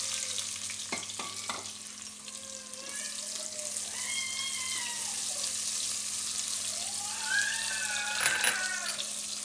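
Chopped bottle gourd dropped into hot oil already holding cumin, chillies and curry leaves, a steady close sizzle and frying hiss with a few clinks of a utensil against the pan.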